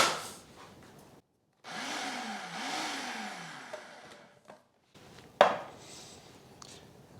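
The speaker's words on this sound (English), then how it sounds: "I'm going to blend this for just a second." A countertop blender briefly whirring through a pinch of salt and 203 grams of all-purpose flour for galette dough, a loud steady grind lasting a few seconds between quieter kitchen handling sounds.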